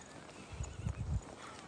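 A horse on a winter trek near Manang in the Nepal Himalaya clops its hooves in a short cluster of soft, fairly close steps, with a faint whinny-like tone in a quiet outdoor setting.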